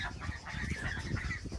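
Narragansett turkeys call in a flock, a dense, continuous mix of honking, gobbling cries that sounds fairly close and loud.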